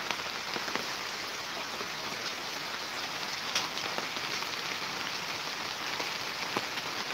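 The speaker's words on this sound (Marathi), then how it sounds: "आमच्याकडे जो पाऊस लागलो ना तर म्हटलं तुमचा दाखवूया" Steady rain patters on surfaces at a home with papaya trees, a dense, even hiss with scattered louder drops, no voices present.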